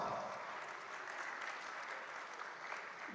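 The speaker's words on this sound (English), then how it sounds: "Please give one more big round of applause." A large audience at a Rotary Institute conference in Kochi gives a dense, steady round of applause that holds at an even level throughout, with no distinct individual claps standing out.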